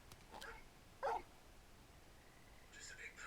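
A large dog in the video game Final Fantasy XVI gives a single short bark with faint yips around it, set against quiet game ambience.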